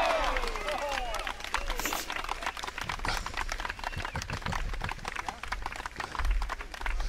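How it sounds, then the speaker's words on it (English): A burst of applause and clapping from a crowd at a political talk, dense and steady for several seconds at moderate level, with a voice briefly audible near the start. "Let me give a clap for that."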